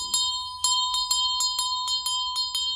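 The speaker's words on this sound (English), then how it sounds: "We gotta ring the bell." A handheld bell rung in a spiritual ritual calling in ancestors, struck about seven times in a steady rhythm, each bright metallic ring clear and close with a shimmering decay, no voices over it.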